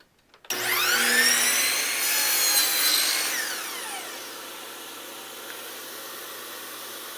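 A power saw spins up with a rising whine and cuts through a piece of crown molding trim in one loud pass, then winds down to a quiet hum.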